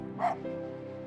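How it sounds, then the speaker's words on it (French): A Yorkshire terrier in the video game Spirit of the North gives a single short, high bark, heard briefly over a soft, sustained musical tone. "C'est un Yorkshire."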